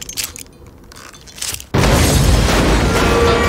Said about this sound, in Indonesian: Granat tangan dilepas.